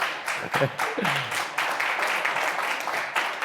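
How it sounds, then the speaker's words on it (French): Audience applause at the closing speech of a French national event attended by ministers: dense, steady clapping that fills the whole stretch at a moderate level, with a voice briefly heard near the start. "Allez-y, applaudissez à chaque fois."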